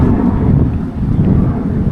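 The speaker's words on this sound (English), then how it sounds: "oh, it's getting windy out here" Wind gusting outdoors by the sea on Jeju near fishing boats, a dense low rumbling buffet against the microphone that holds steady and loud, with no talking.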